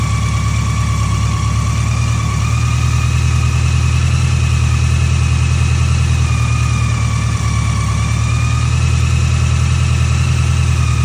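A BMW K100 motorcycle engine idles steadily and loudly up close with a fault from intake air leaks, its revs climbing slightly while the intake is sprayed; no voices are heard.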